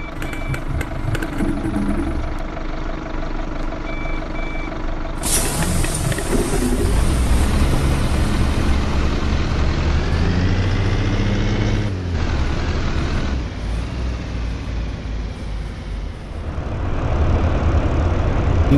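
A bus engine idles and then revs as the bus pulls away and drives off, a loud rumbling drone with shifting pitch and a brief high tone near the start, no talk.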